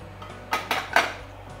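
Vegetables for a pot-au-feu (leeks, carrots, parsnips, potatoes) drop into a cooking pot, three quick soft thuds with a light clatter against the metal, close and quiet.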